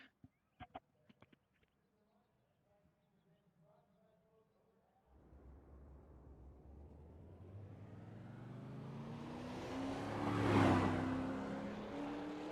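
A drag-style race car at an AiRL event at Southern National, with a few sharp clicks and faint sounds before the engine kicks in as a low drone, then builds into a loud, rising acceleration run that peaks near the end.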